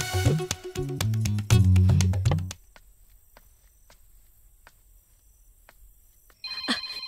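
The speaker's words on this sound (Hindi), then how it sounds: "देखी देखी फोन आइए गई" A phone ringtone plays a bright melodic tune for a couple of seconds, then stops, leaving near silence with faint clicks before another sound starts.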